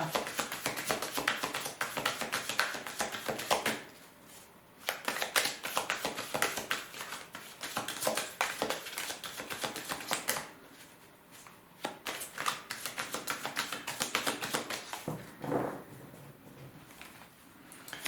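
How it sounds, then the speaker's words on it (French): Tarot cards being shuffled and handled for a Capricorn reading, with dense rapid riffling and tapping in long bursts broken by short pauses. The sound is close and quiet, and nobody speaks. "On va prendre notre carte."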